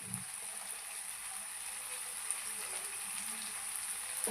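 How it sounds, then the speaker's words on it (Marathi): Bombil, Bombay duck fish, fries in hot oil with a soft, steady sizzle and crackle, a constant hiss with occasional small pops, fairly quiet. "मी बोंबील याच्यामध्ये असं टाकलेलं आहे आता आवाज आलाय थोडासा"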